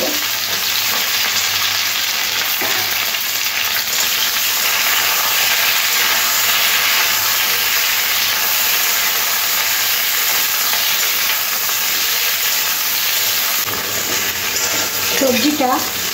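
Papaya, red potato and drumstick vegetables frying in oil in a Bengali shukto, a steady loud sizzle and hiss running the whole time with faint stirring and no talk.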